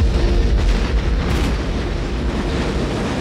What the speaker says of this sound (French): Et surtout, dans cette explosion-là.